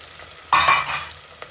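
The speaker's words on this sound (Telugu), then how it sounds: "ఆయిల్లో వీటిని మంచిగా రంగు చేంజ్ అయ్యేదాకా వేపుకుందాము" Onions, green chillies and spices hit hot oil for a Telangana-style mutton curry, bursting into a sudden loud sizzle and stirring that fades over about a second, with no one talking.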